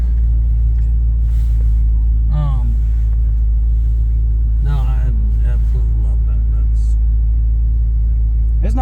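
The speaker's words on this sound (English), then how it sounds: "This sounds like a heavy vehicle now." A cammed 6.4 Hemi Ram 2500 truck engine rumbles steadily and loud from inside the cab while driving, a deep constant drone under people talking.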